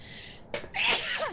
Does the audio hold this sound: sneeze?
yes